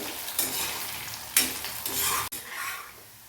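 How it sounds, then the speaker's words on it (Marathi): Shevla (dragon stalk yam) frying in oil on high flame, a continuous close sizzle with a few sharp stirring scrapes and one clank of a utensil against the pan, no talking. "आता छान ह्याला एक दोन ते तीन मिनिटासाठी हाय फ्लेमवर आपल्याला तळून घ्यायचे"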